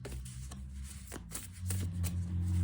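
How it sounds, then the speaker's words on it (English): An oversized tarot card deck is shuffled by hand, producing soft riffling and flicking bursts over a low background hum, fairly quiet with no talking. "This tarot deck, it's very hard to shuffle this deck."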